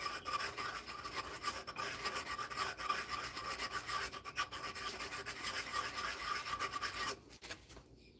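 Sandpaper rubs steadily against a garden dibbler in quick, close, scratchy back-and-forth strokes, going on almost without pause and easing off near the end.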